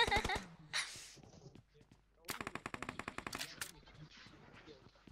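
Gunfire in a PUBG Mobile or Free Fire match, with a rapid automatic burst of repeated sharp shots after a few scattered cracks, fairly close and mixed with excited players' voices.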